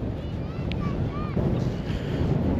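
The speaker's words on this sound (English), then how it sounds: "it's getting really windy" Strong wind gusting across a beach on the walk from Hoek van Holland to Scheveningen, a steady broad roar of microphone buffeting with faint surf mixed in and a few brief high tones over it.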